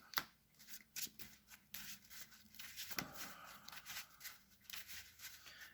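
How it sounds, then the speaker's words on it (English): A trading card deck shuffled by hand at a table, with quick papery riffles and soft taps in irregular bursts, close and fairly quiet. "We do like a pseudo shuffle, get blue up there."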